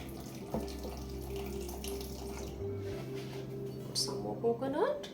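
Water poured from a vessel into a mustard seed, salt, turmeric and coconut spice paste for grinding, a soft steady trickle lasting a few seconds while someone talks, ending with brief splashes.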